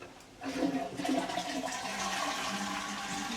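A campsite toilet flushes with a loud rushing gush of water that starts abruptly and keeps churning steadily, close by.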